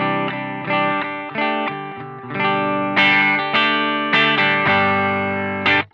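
Heavily distorted electric guitar through a ZOOM MS-50G MultiStomp pedal with high end turned down, strummed chords ringing out in a steady rhythm, loud and saturated with a slight chorus shimmer.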